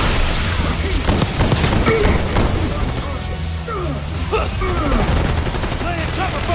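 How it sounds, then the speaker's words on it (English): Rapid gunfire fills a Call of Duty: Black Ops 6 campaign firefight, dense automatic bursts and loud cracks continuing throughout with other combat noise. "Laying cover fire!"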